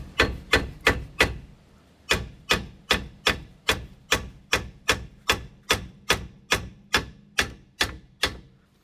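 Repeated hammer taps seat a lower ball joint into a Ford Puma Mk1 control arm, about twenty sharp metallic knocks in a steady rhythm, close and clear, with a short pause after the first few and no talking.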